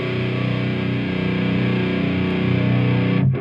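An electric guitar driven by a boost pedal through an Orange Super Crush amp, with heavy saturated distortion sustaining loud and steady as a ringing chord before cutting off near the end.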